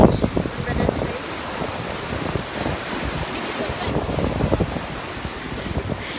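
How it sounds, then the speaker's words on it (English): Strong wind buffets the microphone at a beach while ocean surf rolls and crashes in the background, a steady roaring wash with gusty bursts throughout. "It's so windy!"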